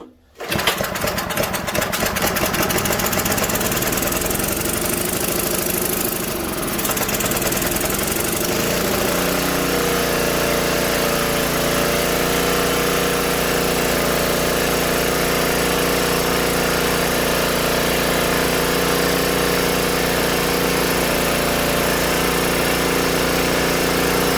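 A small generator engine, recently revived from junk condition, starts up and settles into a steady, buzzing run with the choke fully off, close and loud, continuing without a break.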